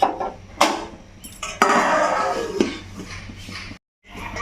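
A spoon clanks and scrapes inside a cooking pot as sugar is stirred into basanti pulao, loud close metallic knocks and scraping followed by a brief silence.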